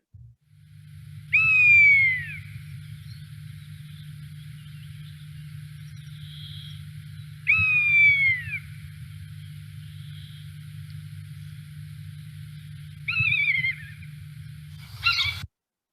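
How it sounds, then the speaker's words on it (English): Rough-legged hawk calls: three drawn-out, downslurred squealing whistles spaced several seconds apart, clear and fairly close over a steady low hum, with a brief click at the end. "And here's the rough-legged hawk."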